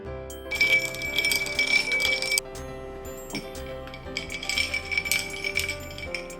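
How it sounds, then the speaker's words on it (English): Calpis, a fermented yogurt-style drink, poured into a glass, with bright glassy clinks and a tinkling ring in two bursts separated by a short quieter gap, close and clear. "Add Calpis into your glass."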